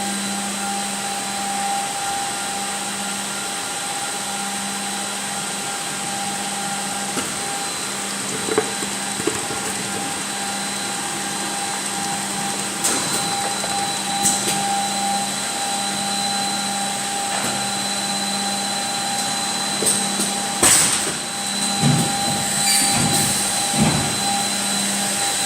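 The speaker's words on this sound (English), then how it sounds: "we'll start the machine, and it should be ready to go now." A HOMAG Profi KAL 3106A20 edgebander runs with a loud, steady mechanical whine and hum, with occasional clunks and knocks from its working parts throughout.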